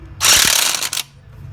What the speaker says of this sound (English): he's going to grab his impact wrench, and he's going to crisscross when he puts these bolts on